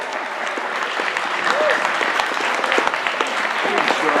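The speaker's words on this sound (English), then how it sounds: "Can we get another round of really big applause for everybody who participated in this?" Audience applause at a comic con cosplay contest, steady clapping with scattered cheers and voices mixed in, moderately loud and continuous from start to end.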